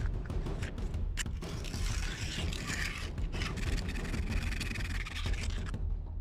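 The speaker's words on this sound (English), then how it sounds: "I started sanding the blade with some rough sandpaper to really get the print lines away" Continuous rough rasping of rough sandpaper rubbed back and forth over a 3D-printed blade, close and fairly loud, with slight pauses in the strokes.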